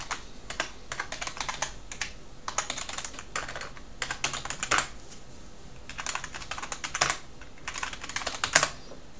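Someone types on a somewhat yellowed computer keyboard with stiff keys while setting up Linux, quick clustered keystroke bursts separated by short pauses, close and moderately loud with no speech.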